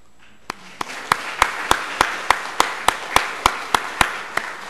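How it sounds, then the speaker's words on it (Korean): A church congregation claps in a slow, steady unison rhythm, about fourteen sharp claps evenly spaced and growing slightly louder, close and clear with no talk over them. "우리 박수해 주시죠."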